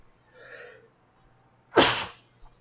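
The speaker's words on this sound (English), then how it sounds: "I think I'm going to sneeze" A single sharp human sneeze bursts out loud and close, preceded by a faint breathy intake, with dust in the air indoors.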